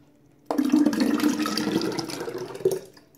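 Fermented milk kefir is poured through a strainer into a jar, starting abruptly as a steady splashing, gurgling stream that runs for a few seconds with a brief louder splash near the end, close and without talk.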